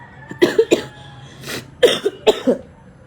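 A string of close, loud coughs in two clusters, each made of two or three sharp bursts, with a raspy breath between them.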